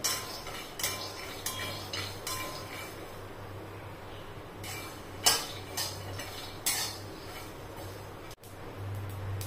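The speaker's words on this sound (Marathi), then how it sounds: "इथे मी शेंगदाणे घेतलेले ते 2 चमचे, 1 चमचा तीळ घेतलेली सफेद, ते आपल्याला भाजून घ्यायचं आहे" Peanuts and white sesame seeds dry-roasting in a pan give soft, irregular clinks and ticks of utensil on metal over a steady low hum, with no talk.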